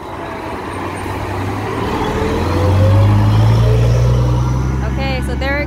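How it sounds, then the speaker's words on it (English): A green local bus in Corfu, Greece passes close by, its engine rumble swelling loudly to a peak and then slowly fading, with a voice talking over it. "That's the green bus."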